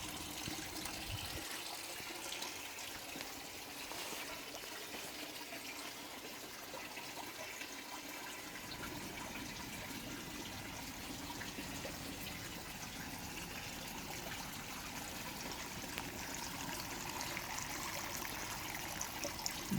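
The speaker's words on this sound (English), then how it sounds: "You've got this bucket down here with a pump in it. There's a pump there. And it pumps the water out of this tube" Water pumped from a bucket trickles and gurgles through tubing in a flood and drain growing system, a continuous, fairly quiet wash of running liquid that grows fuller after a few seconds.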